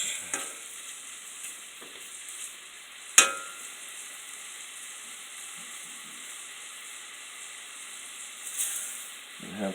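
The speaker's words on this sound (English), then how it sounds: "Once they get them sizzling really good, you only have to cook them about a minute." Dryad's saddle mushrooms sizzling in a pan, a soft steady frying hiss with a few sharp clicks, one louder clatter near the start and a brief swell near the end.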